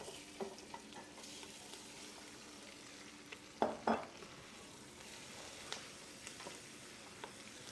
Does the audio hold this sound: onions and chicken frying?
yes